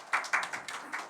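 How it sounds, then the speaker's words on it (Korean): A few people in a church congregation clap during a Sunday service, four or five distinct, sharp claps at an uneven pace, faint and sparse rather than full applause. "우리 호찬 형제 박수로 초대하겠습니다."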